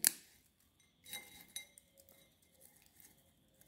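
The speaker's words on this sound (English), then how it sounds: "They are making a noise because they are fully dried." Sun-dried broccoli pieces, dehydrated from frozen until fully dry, rattle and clink together in a few light, scattered ticks, with one sharper clatter at the start and softer ones after it.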